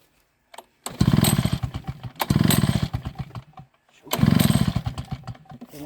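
Echo 8010 leaf blower engine pulled and cranked at full throttle, three loud bursts of rough sputtering engine noise, each catching for about a second before cutting out, with short gaps of quiet between attempts.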